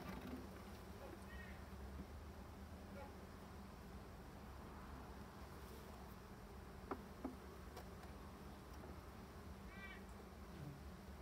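Dense, continuous low buzzing of many honeybees in a hive during a spring inspection, steady and close, with a few brief higher chirps breaking through.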